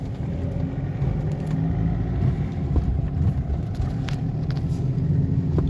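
A BMW E46 320d rolls slowly over speed bumps, heard from inside as a steady low rumble with a faint knock partway through, fairly quiet and without talk.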